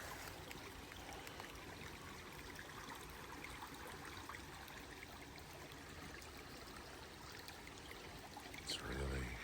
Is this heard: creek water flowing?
yes